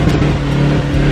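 A 4x4 truck engine roars at full throttle, loud and close, with a strained, steady low drone and a sustained harmonic whine across the brief moment, no speech over it.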